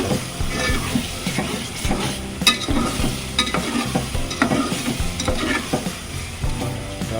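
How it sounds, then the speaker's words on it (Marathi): A spice paste (vatan) sautés in oil for mutton curry, with a loud, busy sizzle and repeated scraping and stirring strokes against the pan, close by and without speech. "वाटण चांगलं परतून घेतलं तेल सुटलं पाहिजे"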